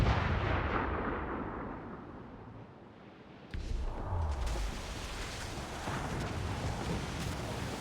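Cannon fire aimed at ships and forts in the Assassin's Creed pirate game: booming artillery blasts with a rumbling roar, one heavy shot near the middle, over a constant dense noise of battle and sea.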